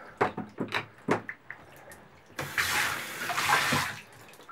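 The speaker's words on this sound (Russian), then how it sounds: "Подождем, пока у нас сольется вода." Water draining from a bathtub during cleaning: a few sharp knocks and splashes first, then a loud continuous rushing, gurgling flow up close that keeps going to the end.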